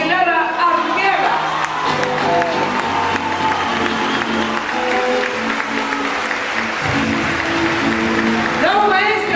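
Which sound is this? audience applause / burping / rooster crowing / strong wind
audience applause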